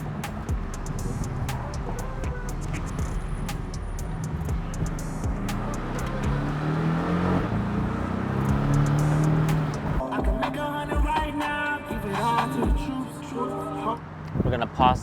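Porsche 718 Boxster getting on the freeway, engine note swelling as it accelerates and revs, loud and close inside the car, with talk over parts of it.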